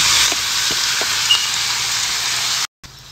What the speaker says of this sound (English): I'm gonna add all your meat mixture.